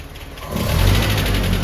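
A restored Land Rover Series 3 engine runs smoothly with a steady, loud mechanical drone and low rumble that swells slightly about halfway through, with no voices.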